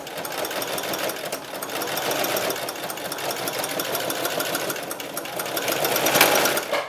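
Sewing machine top stitching a face mask seam, a continuous fast buzzing run of stitches close up, steady throughout with a slight swell near the end.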